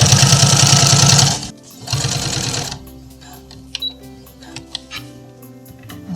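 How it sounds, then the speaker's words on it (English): Sewing machine stitching fur fabric for a saddle blanket, a close, loud rapid rattling run of about a second, a short pause, then a second burst, followed by quieter handling clicks and taps. "I'm going to push the fur away from where I'm sewing so that I just catch the fabric."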